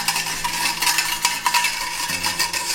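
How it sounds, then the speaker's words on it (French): Crème brûlée mixture being stirred briskly in a bowl, a continuous close scraping and swishing with light clinks of the utensil against the sides, steady and moderately loud with no talking. "Voilà, on mélange bien."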